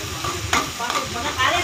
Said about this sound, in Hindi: अब तड़के के तैयार हो रहा है, इसको हल्का सा ब्राउन कर लेना है।